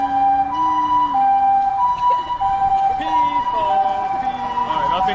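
A wailing ambulance siren in a video game sweeps up and down steadily, loud and close, with a faint background hum.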